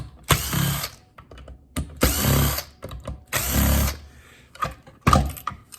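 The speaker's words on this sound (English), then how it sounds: "we'll start by taking out these Phillips screws." A power screwdriver backs Phillips screws out of Cutler-Hammer circuit breakers in three loud whirring bursts, each about a second long, followed by a shorter fourth run.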